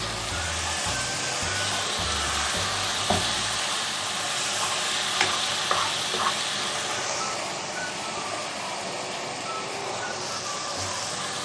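Masala sizzles as it fries with kaleji (liver) in a pan, a steady hiss with a few stirring clinks and scrapes, close and continuous without talk.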